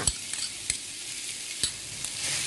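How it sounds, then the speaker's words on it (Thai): Steady oily sizzling of crushed garlic frying in hot oil in a pan, with occasional sharp scrapes and clicks of stirring. "พอน้ำมันเริ่มร้อน เอากระเทียมบุบลงใส่เลยค่ะ"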